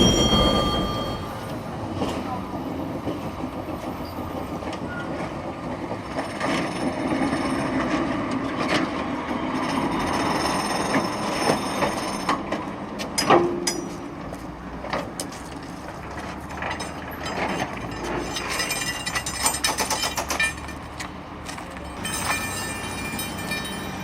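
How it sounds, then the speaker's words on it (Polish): A modern Krakowiak tram runs through Kraków, a steady loud rumble of wheels on rail with squeals and clatter rising and falling, heard from on board throughout with no talk. "Panie Maćku, a teraz pojedziemy do Krakowa super nowoczesnym krakowiakiem"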